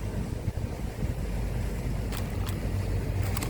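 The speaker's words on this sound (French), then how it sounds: "là il y a vraiment que des yachts qui passent" A yacht passing on open water, a low rumbling wash of engine and waves under steady wind noise, fairly distant and continuous.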